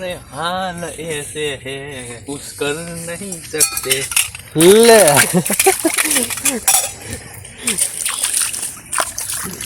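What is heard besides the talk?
washing metal utensils with water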